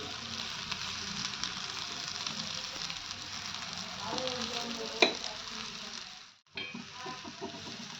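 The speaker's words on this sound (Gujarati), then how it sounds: "બંને સાઈડથી આપણે શેકી લેવાની છે ટિક્કીને" A tikki patty for a Frankie roll fries on a pan with a steady, close hiss of sizzling oil. A sharp utensil tap cuts in near the end, then a brief lull before the sizzle resumes.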